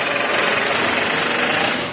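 Power driver sinking screws through a shelf into a 4-foot workbench, a steady continuous buzzing whir held close and loud for the whole moment without a break.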